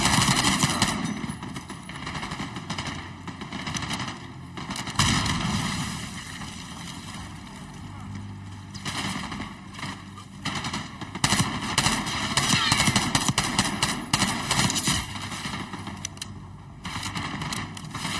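Dense automatic gunfire from a weapon in the video game Call of Duty Black Ops 6, loud and nearly continuous in long rattling bursts with short pauses, over a steady roar of background noise.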